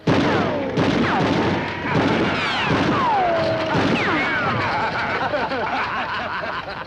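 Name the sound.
gunshots fired at a man's feet, western TV show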